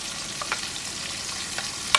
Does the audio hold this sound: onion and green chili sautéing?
yes